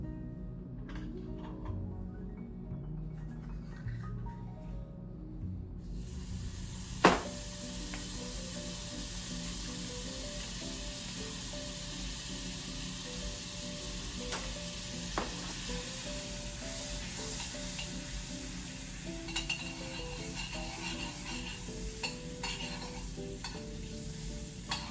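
Butter melting and sizzling in a hot pan over medium heat, a steady, continuous crackling fizz that carries on throughout with occasional sharper pops and a brief louder clatter near the start.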